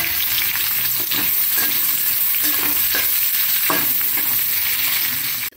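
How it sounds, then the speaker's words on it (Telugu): Onions and green chilli sizzle steadily in hot oil with cumin in a home kitchen pan, a loud continuous frying crackle with occasional stirring scrapes, no voices. "ఆనియన్స్ అయితే బాగా వేగిపోయాయి."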